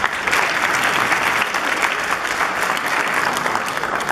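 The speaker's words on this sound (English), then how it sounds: "please give a big round of applause for Palav volunteers." A fundraiser audience applauds its volunteers with dense, sustained clapping that stays loud and even throughout, a full-room crowd sound with no speech over it.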